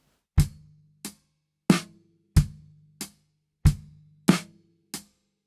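A drum kit groove of isolated bass drum thumps and sharp snare hits, eight strikes with rests between them, played close and clean with nothing else heard.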